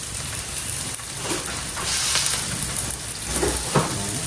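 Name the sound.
crab dish sautéing in a pan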